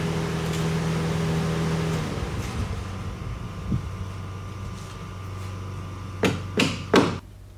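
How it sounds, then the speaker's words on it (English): Strong light clips being hammered onto truck welds, three sharp metallic strikes in quick succession near the end, preceded by a lower machine hum that cuts off and a softer knock, with no talking. "just hammer it on the rest of the way"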